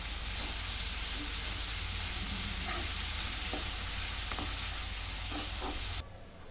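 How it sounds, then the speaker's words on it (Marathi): Steady close sizzle of a ginger, garlic, coriander and coconut paste frying with onion for a Maharashtrian drumstick-and-bean curry, with occasional clicks of stirring; the sizzle drops sharply in the last half second. "त्याची पेस्ट टाकून घेते आता हे पण परतून घेते"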